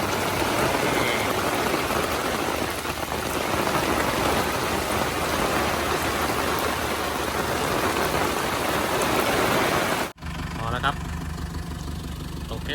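Heavy rain pours steadily and loudly at a riverside fishing spot, a dense broadband wash with a low engine-like rumble underneath, cutting off abruptly near the end into quieter background.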